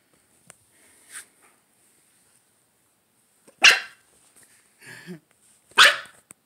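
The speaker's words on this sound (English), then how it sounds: "What are you barking at?" A dog barks indoors in a few sharp, separate bursts with quiet pauses between them, close and loud, with no talking over it.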